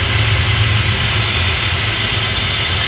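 A Chevrolet Beretta engine runs steadily at close range after a vacuum leak was sealed with silicone, giving a continuous low idle hum with a faint background rumble and no talk.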